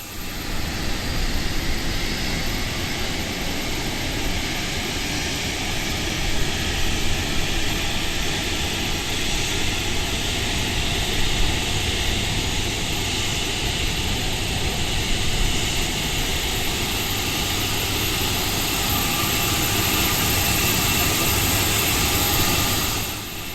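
Four-engine Airbus A340-300 jet engines spooling up in a flight simulator, a loud steady whine and roar that holds without a break, with a faint higher whistle running through it.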